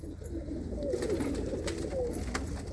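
Pigeons coo in a loft at Anandpur Sahib, soft close murmuring calls rising and falling over a faint background hum.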